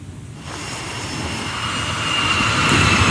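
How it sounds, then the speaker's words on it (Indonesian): US Navy Super Hornet fighter jet launching from the aircraft carrier USS Abraham Lincoln, a loud, steady roar of jet engine noise that swells and builds in intensity, with no voices. "Jet tempur Super Hornet Angkatan Laut Amerika Serikat lepas landas dari kapal induk USS Abraham Lincoln"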